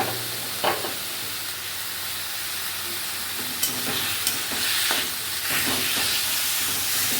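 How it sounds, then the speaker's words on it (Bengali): Fried prawns are stirred into taro stem curry with ground cumin, turmeric and salt in a pan, giving a steady, loud sizzle with a few scraping stir knocks and no talking. "ভাজা চিংড়ি মাছগুলো দিয়ে দিলাম।"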